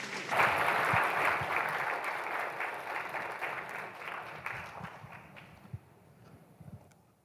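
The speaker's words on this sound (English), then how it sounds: "please welcome them with a round of applause" An audience at a network resilience talk applauds to welcome speakers, a moderate round of clapping that peaks early and gradually dies away, leaving a few scattered claps and low murmuring.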